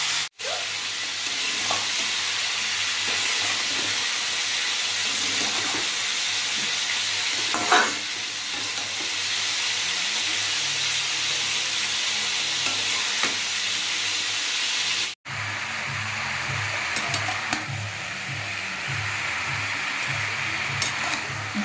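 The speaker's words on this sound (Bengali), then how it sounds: "এখানে ইলিশ মাছের মাথাটা ভেজে নেব একটা জিরে সাদা জিরে আর একটা শুকনো লঙ্কা ফোড়ন দিয়ে চাপিয়ে দেবো" A hilsa fish head fries in hot oil tempered with cumin and a dried chili, giving a loud, continuous sizzle and crackle with occasional stirring scrapes, briefly interrupted before the frying noise resumes.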